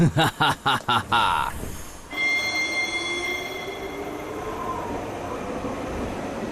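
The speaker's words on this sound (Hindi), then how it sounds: "जिंगा दूसरी ट्रेन में चढ़ गया है" Train in an animated cartoon, starting with a few loud rhythmic chugging bursts, then settling into a steady rumbling run with a high metallic whine over it, close and loud.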